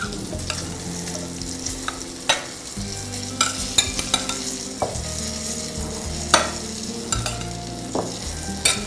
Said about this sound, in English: add the beans to the salad. Give that a mix.